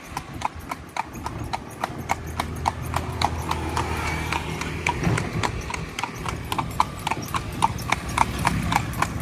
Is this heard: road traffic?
no